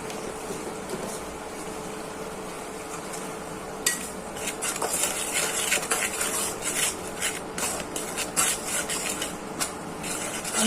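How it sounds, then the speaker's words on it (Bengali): A spoon scrapes and stirs green chilli, cumin powder, turmeric and salt in a cooking pan for a drumstick and lentil dal, giving a steady metallic rasp that grows busier with quick repeated scrapes, close up and without talk. "নেড়েচেড়ে মশলাটা কষানো হয়ে যাক"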